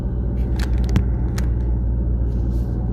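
A car interior on the road carries a steady low rumble and engine drone throughout, with a few faint clicks and rattles over the top and no speech.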